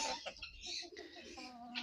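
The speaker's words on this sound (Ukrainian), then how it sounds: "Півні співають, свині кричать." Chickens cluck and a rooster crows nearby in a Ukrainian farmyard, with short bird-like cries overlapping in a brief, lively burst.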